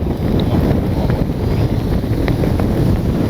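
Steady wind buffets the microphone outdoors at an RC flying field, a loud continuous low rumble with gusty swells throughout and no talk.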